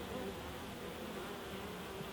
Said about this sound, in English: Bees are quite calm on there.